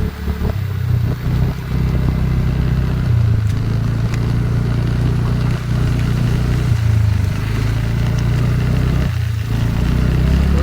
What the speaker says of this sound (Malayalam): നമ്മുടെ പുറകെ ഒരു ടൂറിസ്റ്റ് ബസ് വരുന്നുണ്ട് തമിഴ്നാട് വണ്ടി